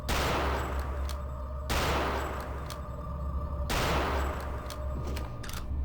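Heavy gunfire from the video game Return to Castle Wolfenstein comes in three loud sustained bursts of rapid shots, each cutting off sharply before the next, close and dominant with no talk over it.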